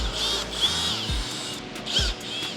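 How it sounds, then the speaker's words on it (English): A power drill bores out a rivet holding trim on a GWM Cannon Alpha ute, with steady whining drilling, brief bites as the bit catches, and workshop background noise. "He has to drill this rivet out"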